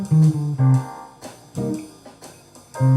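A short melodic line of distinct, separately attacked tones climbs a scale and then comes back down, played close and moderately loud with no talking.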